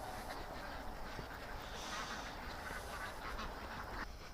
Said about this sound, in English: All right, let's lock the ducks up.